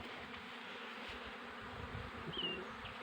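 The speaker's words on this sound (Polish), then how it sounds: "teraz właśnie widzę, że te pszczoły idą w siłę" Honeybees buzz steadily at an apiary in a delayed spring, a dense, even hum close by with no talk.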